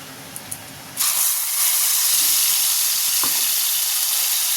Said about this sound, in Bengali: কড়াই তেল দিয়ে দিয়েছি তেলটা গরমও হয়ে গেছে এবার এর মধ্যে দিয়ে দেব পেঁয়াজ আদা রসুন লঙ্কা টমেটো বাটা